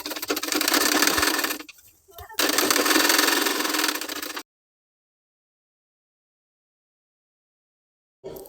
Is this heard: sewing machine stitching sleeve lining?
yes